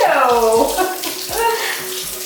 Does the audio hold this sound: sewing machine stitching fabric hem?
no